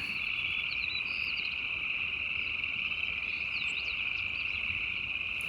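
A dense chorus of frogs croaks continuously in the distance in Yellowstone National Park, a steady high trilling with faint bird chirps scattered over it.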